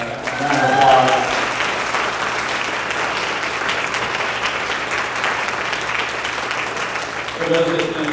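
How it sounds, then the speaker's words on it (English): Audience applause fills a charity gala for a pediatric cancer foundation, a steady sustained roar of many hands clapping that swells near the start and again at the end, with a voice speaking over it at the edges. "Let's give Janine another round of applause."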